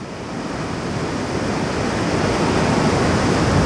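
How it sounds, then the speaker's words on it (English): Rushing floodwater from a flash flood roars through a city as a steady, broad wash of noise, swelling slightly louder toward the end, with no voices. "rushing floodwater right through the city"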